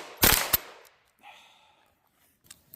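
A Ruger 10/22 Charger .22LR pistol fires two or three quick, sharp shots close by, then goes quiet after a magazine feed problem, with faint handling noises afterward.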